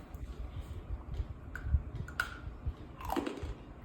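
Crunchy homemade Diwali snacks chewed close to the mic, giving a steady run of soft crunches and bites over a few seconds, with no talking.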